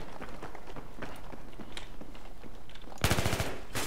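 A short, rapid burst of automatic weapon fire in Battlefield 3 close-quarters combat erupts near the end, following a stretch of quieter movement and footstep-like background sound.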